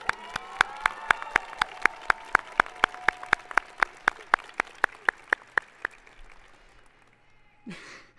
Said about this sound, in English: Please give a round of applause to Mitzi Moore